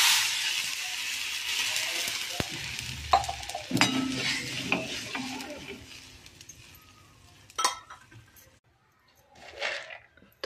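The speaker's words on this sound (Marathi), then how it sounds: "आता याच्यात घालायचं पाणी" Water hits a hot garlic tempering with turmeric, chili powder and salt, setting off a loud hiss and sizzle. Spoon scrapes and pot clinks follow, and the sizzle fades toward the end with a last brief flare.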